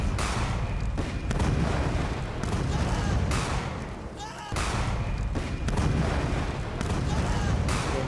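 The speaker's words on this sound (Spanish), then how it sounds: "donde más o menos suenan los disparos de los misiles" Dense, continuous barrage of war sound effects, missile launches and rapid gunfire booming and crackling loud and close, with a brief dip and a rising whoosh before the barrage resumes.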